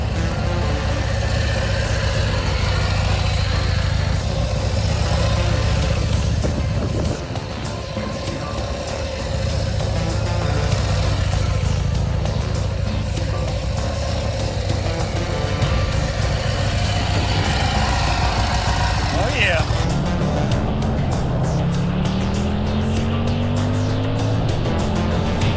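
A racing motorcycle engine runs steadily at a loud, close idle, then revs with a rising whine near the end.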